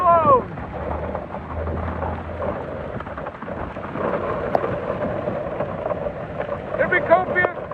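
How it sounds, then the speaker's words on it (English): Storm wind gusting hard across Oklahoma City during a severe hailstorm, a steady loud rushing roar that lasts throughout, with voices faintly over it. "Wind blows!"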